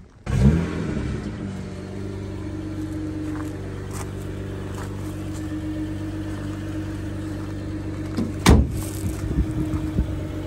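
A BMW with a B58 engine, just repaired after constant limp mode from a wastegate fault, pulls away on a road test: an engine starts and accelerates, then settles into a steady drone inside the cabin, with a sharp thump and brief revving near the end.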